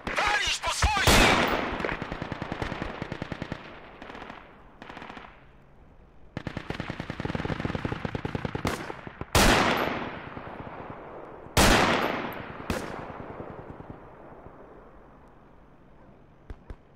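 A DShK heavy machine gun hammers out several loud, rapid bursts in the video game Project Reality, each run of close thudding shots broken by pauses and punctuated by sharp single booms with ringing tails.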